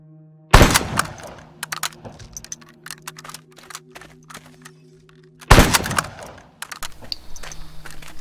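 Gunfire in the zombie survival game The Dead Linger: two loud, sharp shots several seconds apart, each followed by a short decay, with faint clicks and clatter in between.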